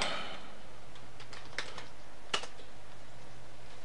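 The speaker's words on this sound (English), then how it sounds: "I'm going to open up the text editor and type some text here" Typing on a computer keyboard into a text editor, light, close key clicks in an uneven patter over a steady low hum, with a couple of sharper taps and no speech.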